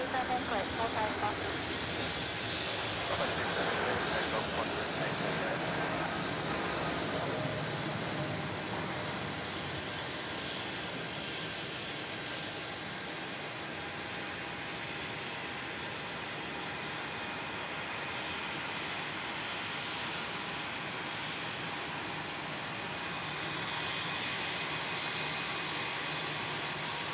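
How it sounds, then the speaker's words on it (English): A jet airliner taking off from runway 27 at Melbourne Airport, a steady broad engine roar that is loudest at first and then eases slightly as it holds on, with a radio voice faintly underneath. "Runway 27 cleared for takeoff."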